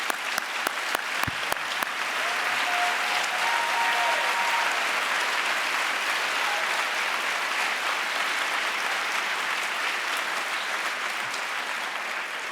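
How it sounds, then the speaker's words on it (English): A large audience at a diversity, equity and inclusion summit community assembly breaks into sustained applause, a dense, steady wash of clapping lasting over twelve seconds, with a few sharp individual claps standing out at the start. "would you please stand and get a well-deserved round of applause."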